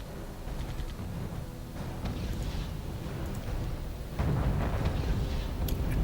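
In the strategy video game RUSE, an anti-tank bunker destroys tanks, producing continuous low rumbling blasts and distant artillery-like booms that swell louder toward the end.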